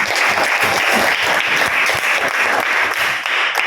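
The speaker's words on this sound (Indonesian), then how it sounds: "Oke, kita kasih tepuk tangan kalau menyenangkan." Children in a primary school classroom clap together during a science lesson on magnets, a loud, dense burst of applause filling the room for several seconds without pause.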